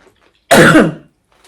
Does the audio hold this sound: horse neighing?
no